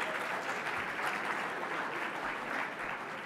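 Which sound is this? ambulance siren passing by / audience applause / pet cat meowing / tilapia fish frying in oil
audience applause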